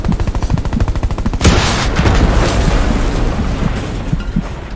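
Gunfire in the Hell Let Loose video game: rapid automatic bursts close by, then a heavy boom followed by a sustained roar of continuous shooting and scattered shots.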